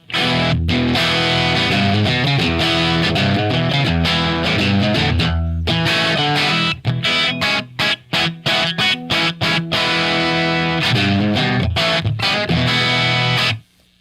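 Telecaster electric guitar through a PROTO2 amp, played loud and continuous with driven, crunchy chords and choppy rhythmic stops, briefly dropping out before resuming.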